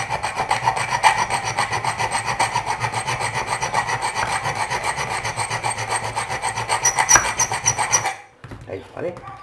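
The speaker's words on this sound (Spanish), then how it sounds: "esto ya es cuestión de darle con lima" A hand file rasps against a part for a motor reversing lever in rapid, steady back-and-forth strokes, loud and close for about eight seconds before stopping, after which a brief voice is heard.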